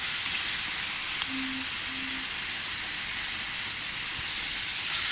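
Chopped mixed vegetables sauté in olive oil with a splash of water in a pan, giving a steady, close hiss and sizzle that stays even throughout, with no voices.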